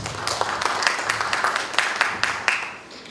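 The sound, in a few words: audience applause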